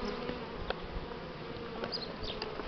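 Buckfast honey bees buzz in a dense, steady hum over a crowded hive frame during a spring inspection, a continuous close drone with faint higher whines drifting through.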